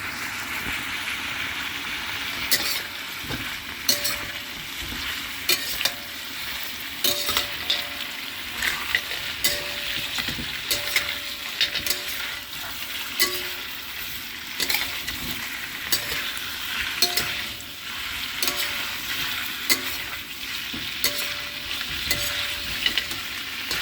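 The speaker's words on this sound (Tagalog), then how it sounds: "Lagay na po natin yung kondol." Winter melon stir-fried with lechon baboy and dried mushroom in a hot pan: a steady sizzle runs throughout, broken by regular sharp scrapes and clacks of the stirring utensil, close up with no talking.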